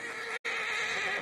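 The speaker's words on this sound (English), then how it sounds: "Marston, you're going to tether him up to Javier's horse" A horse in the video game Red Dead Redemption 2 gives a loud, close whinny, broken by a brief dropout and then continuing as a long shrill neigh, with no talk over it.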